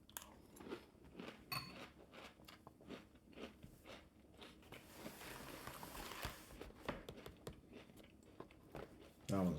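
Chewy chocolate granola cereal is bitten and chewed close to the mic, with soft repeated crunches in an uneven rhythm and some faint breathy sounds between bites.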